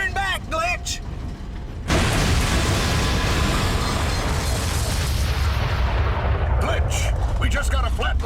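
A grenade blows up in a GameCube video game with a sudden loud boom that rolls into a long, dense rumble of debris and blast noise, as a voice shouts before it and another speaks near the end.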